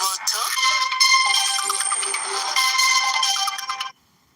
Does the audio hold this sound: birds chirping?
no